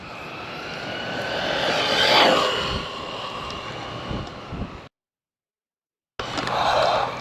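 An Arrma Typhon 223s RC car built for 3S but running on a 2S battery screams past at speed, its whine swelling to a peak and fading away, then returning after a short gap.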